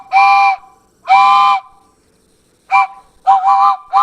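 Train whistle from the 1982 film Death Screams, sounding as a train passes railroad tracks: two long, loud steady blasts followed by a shorter broken series of toots, with no talk.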